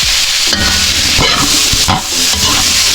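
Squash and sweet potato are stirred into pinakbet in a hot pan, loud close sizzling and frying with scraping spoon strokes repeating every second or so.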